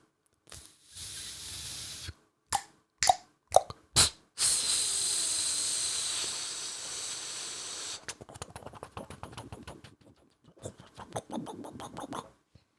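A person imitates water boiling in a pot on a gas stove, making a run of sharp clicks and a long hissing breath followed by crackly bubbling and spitting noises, close and alone without other talk.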